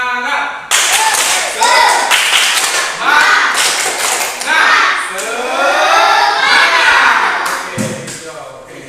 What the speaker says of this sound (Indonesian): kita tepuk semangat sama-sama ya